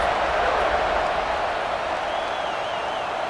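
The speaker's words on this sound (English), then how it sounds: "this crowd is feeling themselves after that last drive" A football stadium crowd at a Miami at Arkansas game roars steadily at kickoff, a broad, distant wash of cheering with a faint whistle-like tone near the end.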